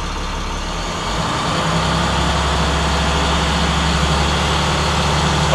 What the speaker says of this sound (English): with the parking brake applied, you put the bus in drive. I will get it up to 1500 RPMs.